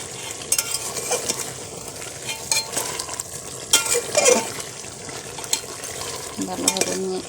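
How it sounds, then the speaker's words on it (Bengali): Spoon stirring beef bhuna in a pan after the lid comes off, soft scraping and sizzling in short irregular bursts, fairly close and quiet, with a few light clinks. "ঢাকনাটা খুলে এখন একটু নেড়ে দিব"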